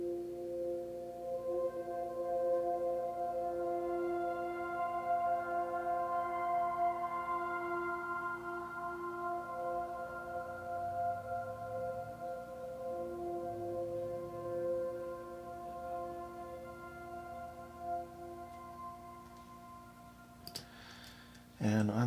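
A Stratus synth track with a gain boost and crystalline reverb without modulation plays sustained, layered harmonic pad tones that drift slowly, then fade quietly before a brief louder burst at the end.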